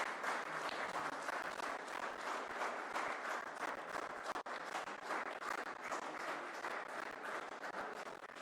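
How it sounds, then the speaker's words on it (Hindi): Sustained applause from a crowd greeting a speaker coming onto the stage at a political gathering, dense and even from start to finish, heard at a distance. "जोरदार तालियों से स्वागत।"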